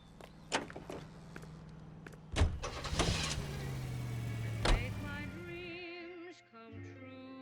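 Car in the video game L.A. Noire: doors thump and the engine starts, then a steady engine hum runs for a few seconds before fading, with brief game music tones near the end.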